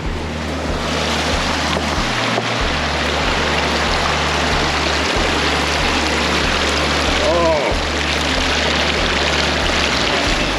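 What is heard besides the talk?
feet in flowing creek water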